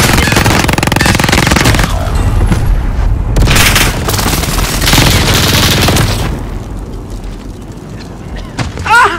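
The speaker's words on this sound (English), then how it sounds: "Enemy precision airstrike." Precision airstrike explosions in an online shooter video game, heavy booming blasts and rattling bursts stacked densely for several seconds, then thinning out with a few sharper cracks near the end.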